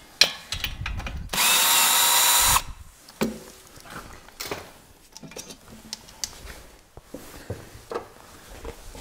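A Makita power drill whirs in one steady burst of about a second, close by, amid scattered clanks and knocks of workshop tools during an engine swap on an Audi RS4 B7.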